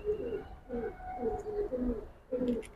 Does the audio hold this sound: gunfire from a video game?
no